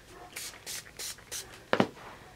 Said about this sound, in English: Just a deglazer in a spray bottle.